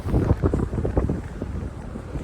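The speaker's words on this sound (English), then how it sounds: "It's still quite windy, as you can probably tell." Strong wind buffeting the microphone on the shore at Perch Rock during a fishing session, heavy low rumbling gusts in uneven bursts, loud and close, with no talk.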